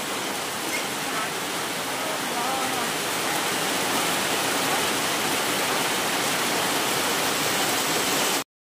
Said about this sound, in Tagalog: inabot na ng ulan ng pag-iihaw